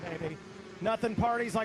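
Several 125cc dirt bikes race off the start line at a GNCC Ironman cross-country round, their engines making a rising, buzzing drone with pitch sweeps beneath an excited announcer who talks throughout.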